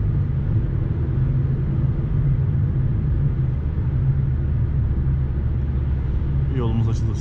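A 2011 Toyota Corolla 1.4 D automatic accelerating at highway speed around 100–120 km/h, a steady low engine and road rumble heard from inside the cabin, with a voice speaking briefly near the end.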